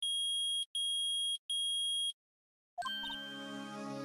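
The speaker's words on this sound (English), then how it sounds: "It's beeping. The metal detector's found something." A metal detector in the video game Phoenix Wright: Ace Attorney gives three steady electronic beeps in a regular rhythm. After a pause, a chiming musical sting rings out and sustains.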